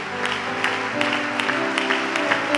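Congregation in a church service applauding together, a steady dense patter of many hands with sustained musical tones running underneath.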